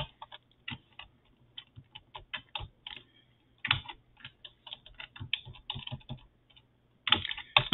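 Bursts of typing on a computer keyboard at a terminal, rapid clicky keystrokes in uneven clusters separated by short pauses, close and clear with no talking.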